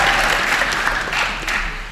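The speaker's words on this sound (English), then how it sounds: "Just a quick clap would do it." Short burst of applause from Youth Parliament members seated in the House of Commons chamber, dense and steady for about two seconds, fairly close and even, with no voices over it.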